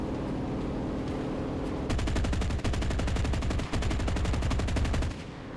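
Rapid aircraft machine-gun bursts in a La-7 versus Ki-84 flight combat game ring out over a steady engine drone, with dense rattling fire running for about three seconds before fading back to engine noise.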